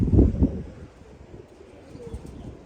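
Pigeons in a loft, a low throaty coo with a couple of soft pulses at the start, then quieter rustling and faint calls trailing off, close by with no talk.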